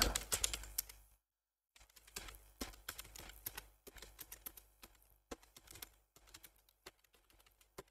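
A string is typed on a computer keyboard as input for a Python program: quick, close clicks in uneven bursts, with a short silent gap early on and scattered louder key strikes.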